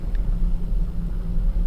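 A steady low mechanical rumble from a telescope building's elevator climbing 100 feet, continuous and even with no voices.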